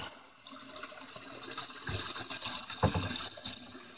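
Water from a PVC pipe pours into an aquaponics pond swirl filter, a soft continuous gurgling and splashing with a few louder surges, fairly quiet and close.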